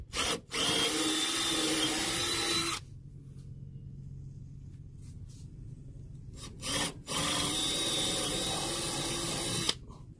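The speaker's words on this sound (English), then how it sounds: "Need to drill those guys out." Power drill boring out grille fasteners on a 2012 Ram 2500 4x4, a loud steady whine running for about three seconds, a quieter low rumble in between, then a second long drilling burst.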